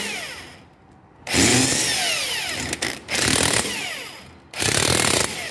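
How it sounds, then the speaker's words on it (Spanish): Pneumatic impact wrench tightening wheel lug nuts in a crisscross pattern while fitting a rear disc brake conversion on a Nissan Tsuru, sounding as three loud, sustained rattling bursts separated by short pauses, close and without talk. "ahora sí, los podemos apretar con la pistola de impacto"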